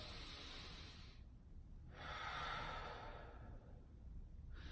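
Slow, full, deep breaths are drawn in and let out in a steady pattern, with two long airy exhalations close to the microphone and a third beginning at the end, soft and without speech.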